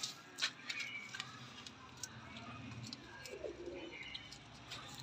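Pigeons of the upright-standing khadi takhti breed, a flock of six males and females, give soft low cooing amid faint chirps and ambient noise, with a few brief ticks near the start.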